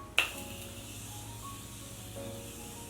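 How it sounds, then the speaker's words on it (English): A single short burst of Morphe Continuous Spray makeup setting spray near the start, a quick hiss that fades into a quiet room tone. "Then I'm gonna take my Morphe Continuous Spray"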